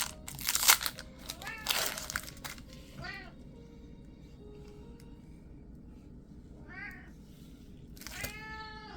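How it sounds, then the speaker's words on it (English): A vocal house cat meows several times, short rising calls near the mic, with crinkling packaging sounds at the start and a quiet background. "I have a very vocal cat right now"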